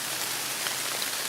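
Steady rain patters down outdoors at a bow hunting camp, a dense, even hiss of drops on surfaces with no voices, holding constant throughout.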